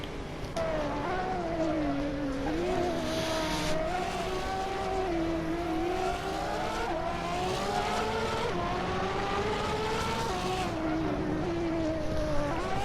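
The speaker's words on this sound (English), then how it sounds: "The Ferrari's weak cornering speed probably being Eric's detriment right now" A Ferrari race car drives hard on a racing circuit in a Challenge series race, its engine note rising and falling steadily through gear changes, continuous and prominent, with faint commentary-like voice traces beneath.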